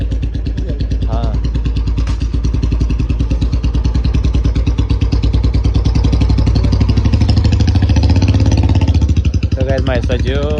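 A motorcycle engine runs close by with a loud, rapid, steady thumping beat that swells a little toward the end; a person speaks briefly over it near the start and end.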